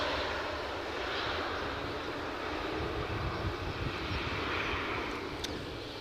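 An airliner takes off at Edinburgh Airport with a steady, broad jet roar that holds at moderate loudness and stays distant and even throughout, with no talk.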